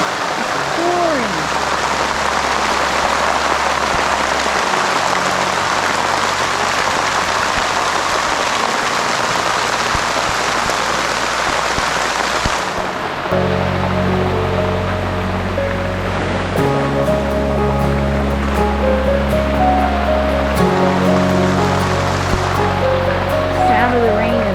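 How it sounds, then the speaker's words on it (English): Heavy rain pours outside a secluded tiny-house cabin in Willow Springs, heard through open windows as a steady, dense hiss with a low droning hum underneath throughout. "Look at that rain. It's pouring."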